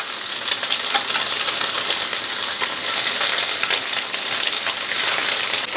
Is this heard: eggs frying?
yes